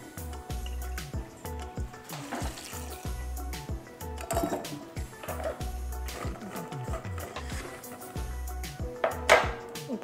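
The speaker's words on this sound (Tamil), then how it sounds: "வேர்க்கடலை முங்குற அளவுக்கு நம்ம தண்ணி ஊற்றுறோம்." Water is poured over peanuts in a pot, making splashing and dripping sounds that rise and fall in several bursts against a quiet kitchen background.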